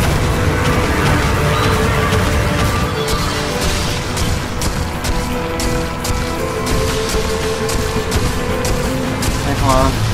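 Turret gunfire in a video game: sustained, loud rapid shooting with booms throughout, and voices shouting over it.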